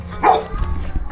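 A dog gives one sharp, close bark outdoors in Tonga on a quiet Sunday, followed by a low rumbling background with no further barking.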